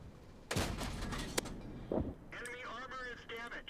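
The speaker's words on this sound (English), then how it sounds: "Shooting in, he's realised he's being shot." Tank cannon fire from World of Tanks, with Object 268 and VK 30.01 D vehicles in play: two sharp booming shots about a second apart, then a third blast. Warbling engine and radio-like sounds follow, with no voices.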